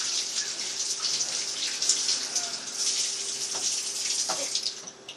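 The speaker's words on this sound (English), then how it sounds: "Okay, go ahead and rinse them. Get all the soap off." Running tap water splashes steadily into a sink as soapy hands are rinsed under it, a continuous close rush with small splashy changes.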